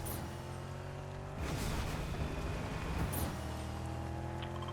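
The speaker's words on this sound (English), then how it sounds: "We can use this car if I don't flip it over 80 times." Car driving in the video game Fortnite, with a steady engine drone and road rumble that swells louder midway, broken by a couple of brief sharp bursts, with no talking.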